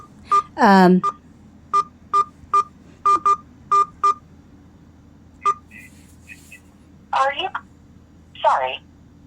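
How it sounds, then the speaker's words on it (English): Telephone keypad tones ring out as a ten-digit phone number is entered on an automated line, about ten short, evenly spaced beeps with a few brief voice-like sweeps around them. "Please say or enter the 10-digit phone number or the street number on the patient's profile."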